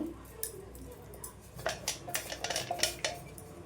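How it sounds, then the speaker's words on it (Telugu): Moong flour roasting in ghee in a pan, stirred with a utensil: a run of light metallic scrapes and clinks against the pan, sparse at first and then quicker and louder, close by with no talk. "ఈ నెయ్యి మొత్తం దీనికి పట్టేంత వరకు మనం వేయించుకోవాలి."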